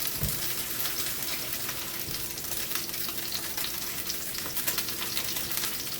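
Pork fillet for ginger pork steak frying in a hot pan with the heat turned down, a steady close, loud sizzle and crackle running continuously throughout with no talking.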